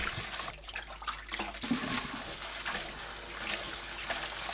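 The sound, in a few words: rinsing soaked dried zucchini in clean water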